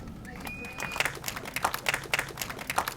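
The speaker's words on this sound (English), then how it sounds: "Let's clap her out." A small group claps on a tennis court, scattered, uneven hand claps building into irregular applause, fairly close, with a voice over the start.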